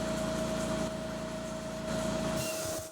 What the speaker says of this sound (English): Speed this up just a touch. Around 100 RPM.